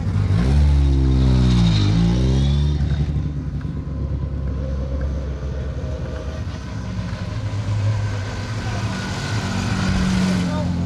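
A rally car at an asphalt stage finish revs and pulls away loudly close by, the engine note rising and then continuing as a steady rumble, with people talking over it.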